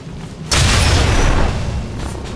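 A heavy weapon fires in the XCOM 2 video game, a sudden loud booming blast after a quiet moment, followed by a sustained rumbling roar that slowly fades, heard alone without talk.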